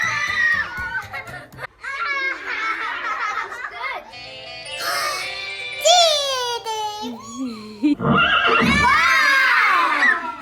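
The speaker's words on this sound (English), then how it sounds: "What is it? Horse!" Horse neighing in loud, wavering whinnies mixed with excited children's voices, babbling and laughter, all close and lively.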